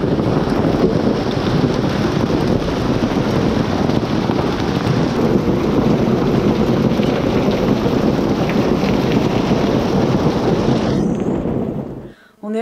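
Heavy rain pours steadily during a hailstorm in Rome, a loud, dense, continuous hiss and patter with rough wind buffeting on the microphone, holding nearly unbroken before cutting off abruptly near the end.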